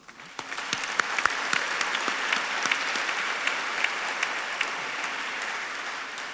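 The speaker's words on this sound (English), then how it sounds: "I hope you can join me in the round of applause for our sponsors." Applause for sponsors at an Asian American business award dinner, a moderate-sized audience clapping steadily with distinct individual claps standing out, heard at a middle distance and holding evenly throughout.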